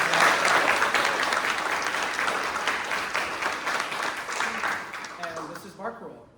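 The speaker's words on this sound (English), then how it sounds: "can you just give a big round of applause for our performers?" An audience at a final choral concert applauds its performers, a loud, dense burst of clapping that gradually thins and fades out, with a voice briefly heard near the end.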